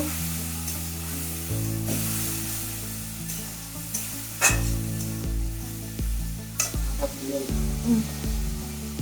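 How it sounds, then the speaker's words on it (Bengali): Curry masala for a tangy fish curry sautéing in a pan with a little water, a close steady sizzle broken by stirring scrapes and a few clatters, with a tonal hum underneath. "বাটিটা ধুয়ে একটু জল দিয়ে দেব। কষিয়ে নেব।"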